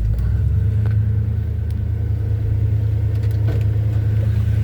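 A 1978 Chevy C10 pickup truck driving along, its engine a loud, steady low rumble from inside the cab with faint rattles over the top.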